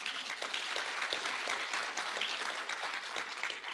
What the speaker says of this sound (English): Can we give her a clap?